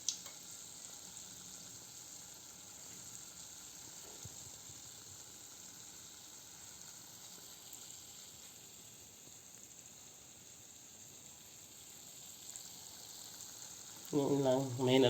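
Shakoy dough fries in oil over low heat with a soft, steady sizzle and hiss that runs throughout, quiet and close, and a louder clatter comes at the end.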